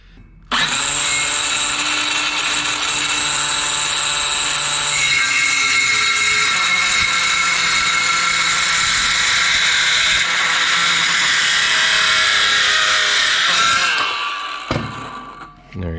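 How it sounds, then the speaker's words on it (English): Circular saw cuts a deck gate board at a 45-degree angle. The motor whines loud and steady for about fourteen seconds, then spins down to a clunk. "We're actually going to rotate the speed square to get our circular saw pretty close to where it needs to be so it can follow the line and cut it"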